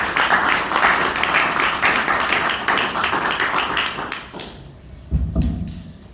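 An audience welcomes a speaker at an energy-policy forum with dense, steady clapping that holds for about four seconds, then thins and fades, ending with a brief low thump.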